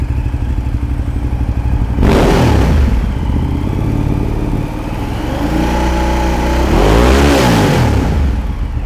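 A motorcycle engine idles steadily, then revs up sharply twice, the pitch climbing and falling with each throttle blip, loud and close.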